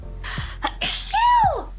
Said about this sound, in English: It hurts to sneeze.